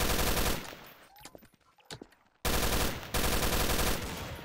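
Rapid bursts of automatic gunfire in the video game Trouble in Terrorist Town, loud and dense, broken by a short quieter gap with scattered single shots before the firing resumes.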